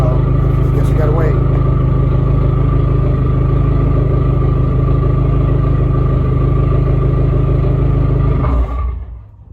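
A Dodge SRT4 engine keeps idling on its turbo timer after the key is turned off, a steady loud low rumble that holds for several seconds and then cuts out near the end.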